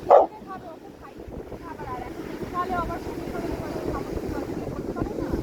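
A Labrador named Coco gives a sharp bark at the start at the seaside, then follows with softer yelps beneath ongoing wind noise and people talking.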